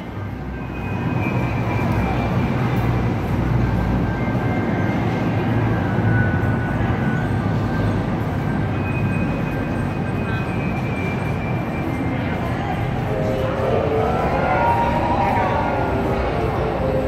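The Hogwarts Express replica train pulls into Platform 9 3/4 at the Wizarding World of Harry Potter, a steady loud rumbling roar with squealing tones throughout and crowd noise.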